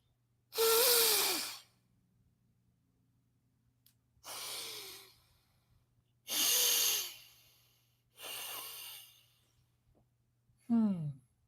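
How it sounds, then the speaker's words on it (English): Nadi Shodhana alternate-nostril breathing: five separate, airy breaths spaced a couple of seconds apart, close and fairly loud, each a rushing whoosh with a faint throaty tone, the last one short and sharp, over quiet background hum. "Nadi Shadana breathing."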